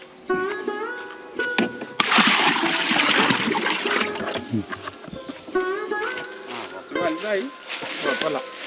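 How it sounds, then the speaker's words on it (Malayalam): Water is poured into a bucket while a well is being bailed out, giving a splashing rush of a couple of seconds with shorter splashes around it, mixed with people talking nearby. "വെള്ളം ഇതിലൊഴിക്കാം"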